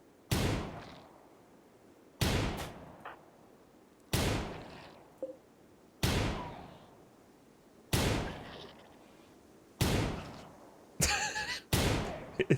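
Gunfire in the video game RimWorld, with sharp single shots repeating about every two seconds, each ringing off in a decaying tail, and a quicker pair of shots near the end.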